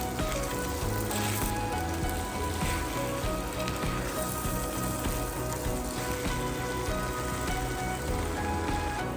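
Noodles in a thickened sauce sizzle steadily as they are stirred in a skillet for beef chow mein, a continuous close hiss with faint scraping and no speech.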